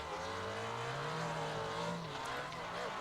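Car revving hard into a handbrake drift entry in the Assetto Corsa racing game, a continuous loud engine drone with shifting pitch and a brief tire squeal near the end.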